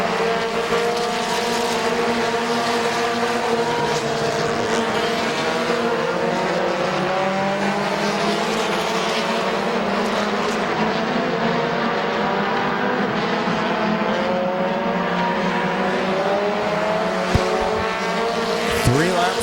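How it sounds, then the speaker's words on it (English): Race cars circling the Midvale Speedway oval, engines roaring continuously with rising and falling pitch as cars pass, loud and close, with a race announcer talking over the field throughout. "Kyle Rector to the inside of the 27 of Van Meter for second."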